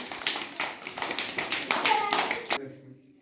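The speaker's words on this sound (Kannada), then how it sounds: "ಅವಳಿಗೊಂದು ಚಪ್ಪಾಳೆಯನ್ನು ತಟ್ಟೋಣ" A small group claps for a young girl who finished a puzzle game, a brief burst of quick, close applause lasting about two and a half seconds before fading to quiet.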